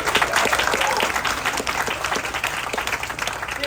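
An audience at an outdoor groundbreaking ceremony claps steadily, a dense wash of applause that holds at a fairly loud level for a few seconds without any voices standing out.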